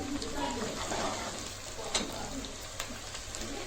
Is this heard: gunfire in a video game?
no